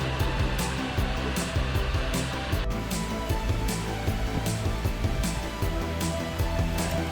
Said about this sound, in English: At this time I've got the CNC running and then also the 3D printer at the same time printing out all the new